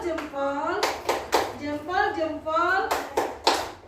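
A primary school class claps in short, rhythmic bursts while children's voices chant along.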